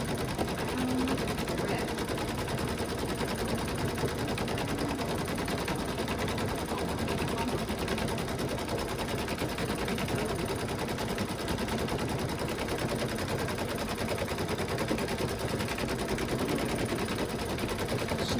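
An embroidery machine stitches placement lines for an in-the-hoop monkey bib, a dense, continuous rapid needle rattle that holds steady and loud throughout, with a brief spoken word partway through.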